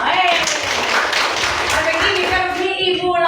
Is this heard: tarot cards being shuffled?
no